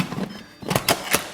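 The lid of an Instant Pot is fitted on while making an aam pana mango drink: a few sharp plastic and metal clicks and clunks, close and loud, with no talk.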